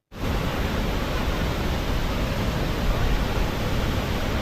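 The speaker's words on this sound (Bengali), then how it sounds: "প্রচুর জোরে জল ঝরে পড়ছে, আর এখন ভরা বর্ষা" Jonha Falls pours heavily in the rainy season, a loud, unbroken broadband roar of falling water close by that begins abruptly and holds steady throughout.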